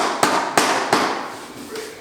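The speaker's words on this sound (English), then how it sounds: "you actually gotta hammer it" Three sharp hammer blows land about a third of a second apart during renovation work in an abandoned house, close and loud, followed by fading ringing and a faint tail.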